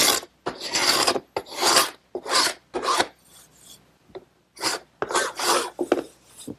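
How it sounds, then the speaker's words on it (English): An ordinary paint scraper rasps dried glue beads off a wooden board, a run of short, harsh scraping strokes in irregular rhythm with brief pauses between them, close and crisp. "I want to just scrape off the little beads of glue that squeeze through."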